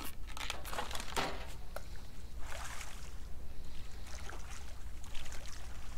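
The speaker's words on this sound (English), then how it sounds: "I'm paddling towards it, but it's going to break soon." Paddle strokes pushing a raft through water in the survival game Raft, soft splashing and sloshing with a few crinkly swishes, fairly faint over a low steady background, with no talking.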